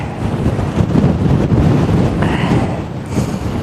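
Strong outdoor wind gusts over 70 km/h batter the microphone with a loud, constant roaring rumble that swells and eases slightly.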